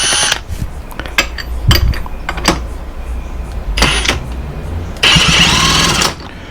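A Yamaha Passola scooter engine is cranked over during a compression test, producing several loud, close bursts of whirring, chugging turnover separated by brief pauses, the last run lasting about a second.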